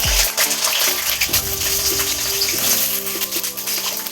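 Potatoes dropping into hot mustard oil with black cumin and dried chilli give a sudden splash followed by bright, crackling sizzle that keeps bubbling steadily and loudly, close up with no voices.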